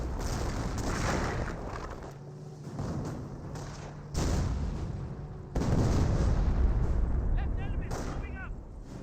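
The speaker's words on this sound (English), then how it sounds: "Grenade has been thrown up to the captain." A grenade blast and other battle explosions from the Company of Heroes game boom in a noisy wartime mix. Sharp heavy bursts mark the middle of the clip, with gunfire and a commentator talking over it.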